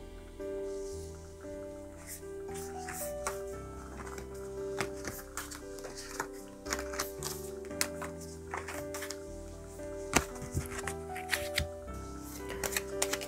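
Tarot cards shuffled and drawn by hand, a long run of close, crisp riffling and flicking with sharp snaps scattered throughout, no one talking over it.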